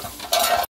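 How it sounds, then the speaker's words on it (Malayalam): Masala-coated fish frying in a clay pan for fish pickle: a close, dense sizzle that swells briefly with stirring before cutting off into silence. "അപ്പൊ അതെ, മീനച്ചാറ് വേണ്ടിയുള്ള മീൻ ഫ്രൈ ചെയ്തുകൊണ്ടിരിക്കുകയാണ്"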